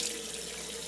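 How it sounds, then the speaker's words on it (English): Warm tap water running into a sink while face cleanser is rinsed off, a brief steady splashing flow, fairly quiet and without any talking. "I've finished with my oil cleanser and I'm going to rinse it off with water"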